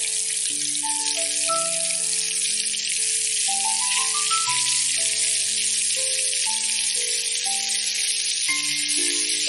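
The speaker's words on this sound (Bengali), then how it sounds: "আমি মাছগুলো সর্ষের তেলে ভাজছি" Bombay duck fish fry in mustard oil with a steady, unbroken hiss of sizzling that runs the whole time beneath a plucked, tuneful melody of background music.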